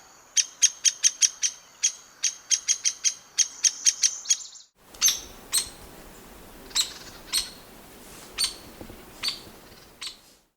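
Hairy or Downy woodpecker giving short, sharp peep calls: a fast series of a dozen or so clear chirps, then more widely spaced single calls over soft outdoor background noise.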